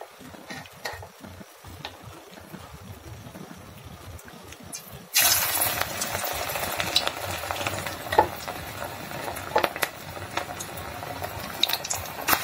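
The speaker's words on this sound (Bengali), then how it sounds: "এখন আমি একটু পেঁয়াজি ভেজে দেবো" Onion fritters (peyaji) in gram flour batter hit hot oil partway through, bursting into a loud, steady sizzle that keeps going, after quieter kitchen stirring and clatter.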